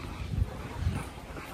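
A pug dog growls softly in two short, low grumbles about half a second apart, faint against light background noise.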